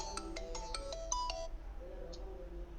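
An electronic phone ringtone chimes in a quick melodic pattern for a moment, then stops, leaving a quiet room hum.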